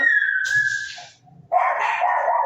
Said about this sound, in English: my dogs are just going insane